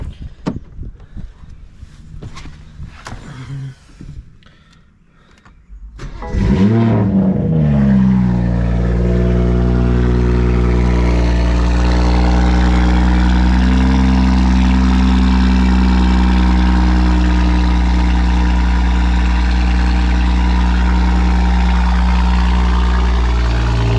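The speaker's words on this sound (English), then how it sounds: "turn the car on for you guys so you guys can see what it sounds like" A BMW car engine turning over and catching with a loud start, then settling into a steady, deep idle that runs unbroken to the end, close and loud.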